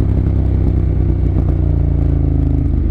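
A 2014 Ducati Monster 1200S rumbles steadily while being ridden, its engine a loud, continuous low throb close to the microphone with wind and road noise.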